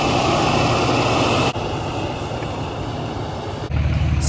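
A John Deere 8R 370 tractor running on a farm during corn replanting, a loud steady engine drone with a constant low rumble and a brief dip in level partway through.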